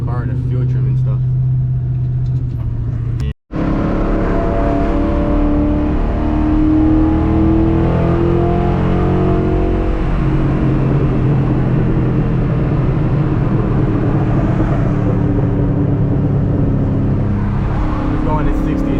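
A car fitted with a 78mm BBK throttle body accelerates on a highway, a deep engine rumble climbing and then easing off, heard from inside the car with someone talking over it.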